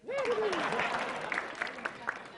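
A stand-up comedy crowd gives applause mixed with cheering and laughter, starting strong and thinning into scattered claps, with a voice audible over it at the start.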